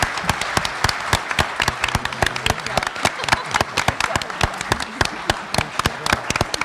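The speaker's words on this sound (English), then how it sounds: "Let's give our candidates a big applause for coming out" Audience at an evening candidates' forum in an opera house applauds, a steady wash of many hands with sharp individual claps popping out, loud and close, lasting throughout.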